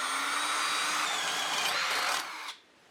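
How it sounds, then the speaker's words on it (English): A power drill bores a hole into a wooden post, whining steadily and loudly for about two seconds, then dropping in pitch as it slows and stops. "I'm drilling a hole about in the middle towards the top of the post"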